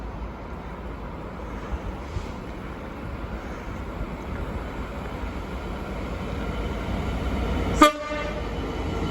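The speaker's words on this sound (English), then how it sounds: "First time for me seeing the GBRf water train" A GBRf water train rolls past at Ashford International with a steady rail rumble throughout, then a short, loud horn blast rings out near the end.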